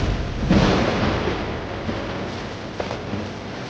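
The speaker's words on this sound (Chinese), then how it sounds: "师傅，打雷了，马上要下雨了" A thunderous sound effect for a powerful sword energy in a wuxia costume drama: a booming burst early on, then a rolling, fading rumble with no one speaking.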